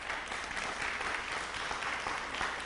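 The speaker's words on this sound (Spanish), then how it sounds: "démosles un fuerte aplauso a ellos también" Steady applause from a church congregation fills the room, a dense, even wash of many hands clapping throughout with no talk over it.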